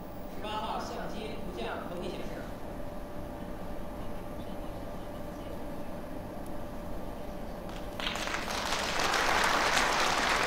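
Applause breaks out inside the Beijing Aerospace Command Center as a lunar rover photo appears, rising over a steady hum of room noise in the final seconds.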